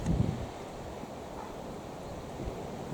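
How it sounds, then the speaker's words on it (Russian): Strong wind blowing outdoors at a dovecote while pigeons are flown, a steady broadband rush with gusty buffeting against the microphone, continuous and fairly loud throughout. "Ветер сильный."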